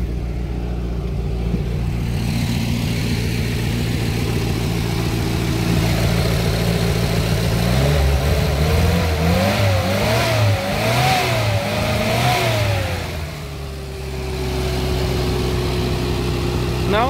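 A Škoda 1000 MB car engine runs steadily at close range, with harmonic hum, then revs up and down in several surges before settling back to a low idle.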